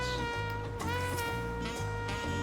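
A synthesized cat meow in Final Fantasy XIV: Dawntrail, sounding repeatedly over steady background music.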